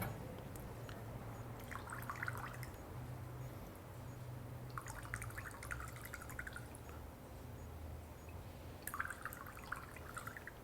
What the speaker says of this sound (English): I'm going to slowly pour the water into the absinthe until it louches